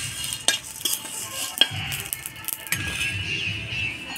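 Whole cumin, coriander seeds and green and red chillies sizzle in hot oil in a pan, a soft hiss broken by a few sharp spoon scrapes and clinks as the spices are stirred.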